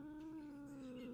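A pet cat lets out a sustained, angry caterwaul rather than a meow, a steady close drawn-out tone that holds for about a second without pause, with no talk over it.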